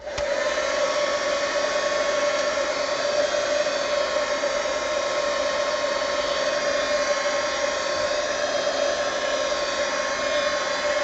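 Heat gun blowing steadily while drying paint on an art journal page, a loud continuous whirring hum with a fixed pitch that holds without a break for the whole span, close to the listener, with no talking.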